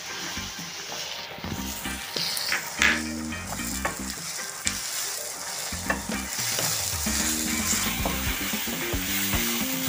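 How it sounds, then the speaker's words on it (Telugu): Ginger-garlic paste sizzles and fries in hot oil for a Godavari-style spicy chicken curry, a steady crackling hiss with spoon stirs and scrapes clattering in the pan throughout, close and alone. "ఇప్పుడు అల్లం వెల్లుల్లిపాయ పేస్ట్ వేసుకొని వేయించుకోవాలండి"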